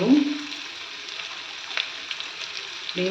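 Carrots, beans, onion and tomato fry in a pan for red sauce pasta, a steady close sizzle with light stirring, and a voice speaks briefly at the start and end.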